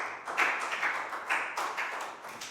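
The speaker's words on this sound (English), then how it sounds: "Big round of applause for Net," A classroom of students claps for a classmate, a short burst of scattered hand claps in uneven rhythm, moderately loud and close, with no talking over it.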